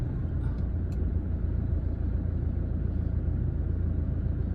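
Slow traffic in a Bangkok street near the Pratunam market, a steady low rumble of idling and creeping vehicles close by, with no voices.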